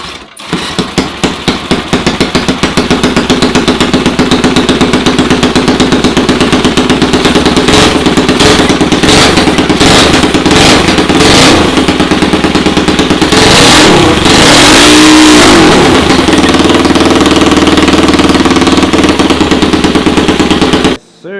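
A tuned E85 car engine revs hard and loud through donuts on city streets, a rough, rapid-fire roar with crackling bursts and a squealing swell midway, sustained for the whole stretch.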